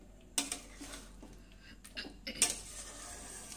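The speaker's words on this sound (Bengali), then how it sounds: "ভালো করে আর একবার এখন মিশিয়ে নেব।" Spoon scraping and clinking against a pan while a spiced pointed-gourd korma with ghee and garam masala is stirred, two sharper metallic knocks standing out over soft, low scraping.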